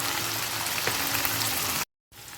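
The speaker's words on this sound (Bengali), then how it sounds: "আদা রসুনের কাঁচা গন্ধটা চলে যাওয়া পর্যন্ত আমি কষিয়ে নেব।" Ginger and garlic paste sautéing in a hot pan for soyabean dal, a steady dense sizzle and crackle that runs close and even, then cuts out briefly before resuming.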